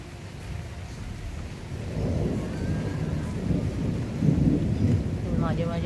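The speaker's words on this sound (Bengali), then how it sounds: "মাঝে মাঝে আবার মেঘ ডাকছে" Low rolling thunder rumbling over light drizzle and wind buffeting, a deep sustained murmur that swells toward the end, with a voice speaking faintly over it.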